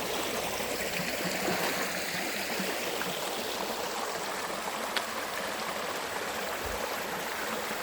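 A brook flows through woods in Northern Maine on a hot day, a steady close babble and trickle of running water that continues evenly throughout with no voices.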